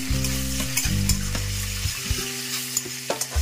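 Fresh curry leaves and two dried red chillies sizzle and crackle in hot oil while being stirred, a steady close frying hiss broken by scraping stir strokes, with no talking.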